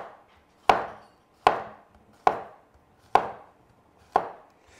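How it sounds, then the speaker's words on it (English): A knife slicing zucchini into quarter-inch rounds on a board, five crisp, evenly paced chops about a second apart, close and clear, with no talk. "Trim each end from the zucchini and then cut it into"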